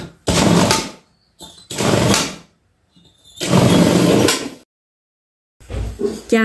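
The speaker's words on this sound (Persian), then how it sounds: "سبزه های برش زده رو کم کم داخل سبزی خردکن میریزم" An electric vegetable chopper grinds wheat sprouts for samanu in loud, close pulses, four or five bursts of whirring with short silent gaps between them.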